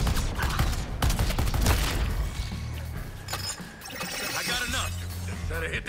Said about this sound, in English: Do not let the cannon's beam strike you.